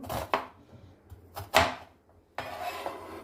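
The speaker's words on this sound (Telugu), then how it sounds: "ఆనియన్ని కట్ చేద్దాము" Knife chopping onion on a cutting board for a chickpea curry, a few sharp separate cuts spaced apart, then a brief burst of rapid chopping at the end.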